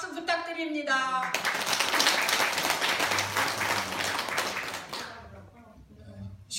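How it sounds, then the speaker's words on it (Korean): Applause from a church congregation at a Korean church service, a dense, loud wash of clapping that follows a brief voice and then fades out near the end. "박수 부탁드립니다"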